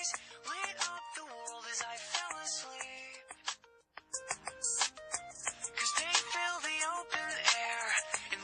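A phone ringtone plays as a musical, melodic tune, loud and continuous for several seconds, with a short break midway, in a comedic Telugu movie scene just before a call is answered.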